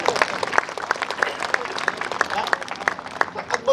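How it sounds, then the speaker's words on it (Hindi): A crowd at a kavi sammelan poetry gathering at a police line in Palamau, Jharkhand, breaks into steady, dense applause, many hands clapping at once throughout, close and moderately loud with a voice faintly beneath. "तालियां अभी भी कमजोर है आपकी।"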